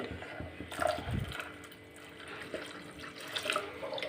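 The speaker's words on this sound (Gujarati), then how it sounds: "આપણે બે કપ જેટલું પાણી એડ કરીશું" About two cups of water trickle faintly into a pan of sabudana (sago) batter for homemade papad, a soft close pour with small drips and splashes.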